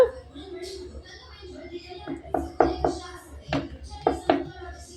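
Rice flour dough for akki roti is patted thin by hand on an oiled surface, with soft irregular slaps and taps close by, under someone speaking.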